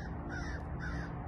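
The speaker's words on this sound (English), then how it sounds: "crow flying over" A crow caws twice while flying over an outdoor trapping spot, harsh and fairly close, over a steady background rumble of wind or ambience.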